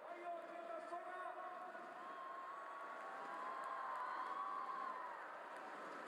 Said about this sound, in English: Cheered on by the crowd